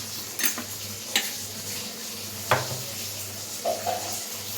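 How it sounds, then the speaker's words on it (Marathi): Spice masala of red chilli, turmeric, garam masala and kofta masala gets stirred in a frying pan under a low sizzle, broken by a few sharp scrapes and taps of the spoon against the pan. "आता एकजीव करून घेतला सगळा मसाला"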